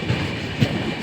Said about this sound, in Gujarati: આ ટ્રેન અત્યારે જાય છે અમદાવાદ।